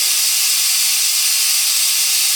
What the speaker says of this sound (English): there's that compressor, sorry